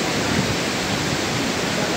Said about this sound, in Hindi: Mau waterfall it's so beautiful